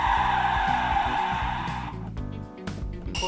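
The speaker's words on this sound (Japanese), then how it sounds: "ブレーキというよりスキール音っぽいのかな。" A tire-squeal braking effect plays from a sound system installed in a car with an 8.8-liter V8, a continuous loud skidding screech with steady tonal layers that briefly dips before resuming.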